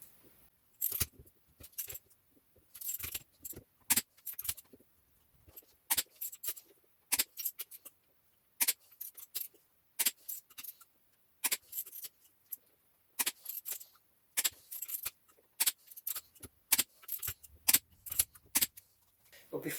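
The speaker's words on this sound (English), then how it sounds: "I'm going to pre-tighten these first, and then I'm going to apply final torque." A hand wrench ratchets bolts on the rear axle of a BMW E39 Touring, with bursts of quick metallic clicking repeated in short spurts, separated by quiet pauses, close and fairly soft.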